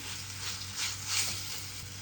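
Raw mango paste heating in a kadhai over a low flame for pickle: a soft, steady sizzling hiss close by, swelling slightly twice, with no voices.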